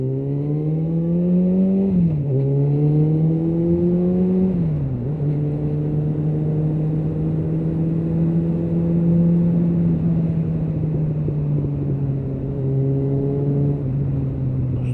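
A car driving on a road and taking a right-hand bend, its engine a steady close drone that rises and falls in pitch with several gear shifts and throttle changes.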